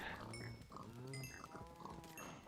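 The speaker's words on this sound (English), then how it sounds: "see that pig there?" A Minecraft pig grunts and oinks repeatedly in short nasal bursts over a steady background hiss.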